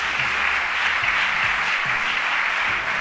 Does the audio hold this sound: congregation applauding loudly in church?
yes